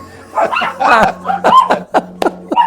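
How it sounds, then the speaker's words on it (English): Dogs bark and yip nearby in quick, irregular bursts, some whimpering, over a steady low hum. "I got the dogs and the gardener now."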